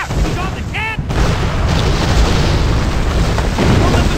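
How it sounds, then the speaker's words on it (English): Heavy cannon fire from a keelboat-mounted cannon in the Western action game GUN, a loud booming blast within a dense, continuous mix of battle noise. "Get on that keelboat cannon and blast those bullets."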